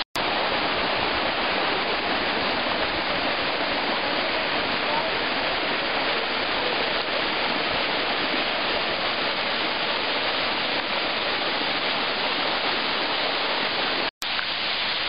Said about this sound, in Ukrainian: 10 метрів має Нарінецький водоспад, він спускається по градусом десь порядку 75 градусів.